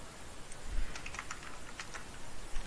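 Keys clicking on a computer keyboard while code is typed, a sparse run of light taps at moderate distance over a faint background hiss, with no voice.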